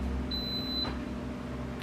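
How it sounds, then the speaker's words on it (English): An Instant Pot pressure cooker in a home kitchen gives a single high electronic beep, short and clear, over a steady low appliance hum. "that's my Instant Pot. It's gonna beep for a few."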